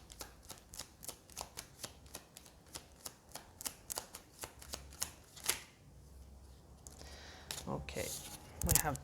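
Tarot cards being shuffled and drawn, a rapid run of crisp riffling flicks close by, followed by a few softer card slides and handling sounds, fairly quiet overall.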